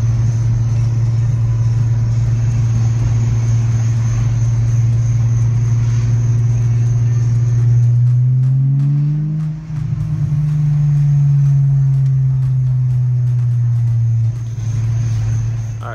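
A Volkswagen Jetta's engine drones steadily while driving laps around a neighborhood, a loud continuous low hum that dips and rises briefly in pitch midway as the car shifts or changes speed.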